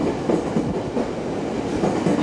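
A JR Takasaki Line 211 series electric train departs Kagohara Station out of service, rumbling along the tracks with a rhythmic clatter of wheels over rail joints, steady and fairly loud, with no voices.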